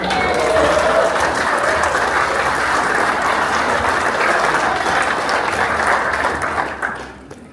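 Applause from a crowd of guests at a Samoan wedding celebration, a steady dense wash of clapping that fills the room for several seconds before tapering off at the end, with a few voices mixed in.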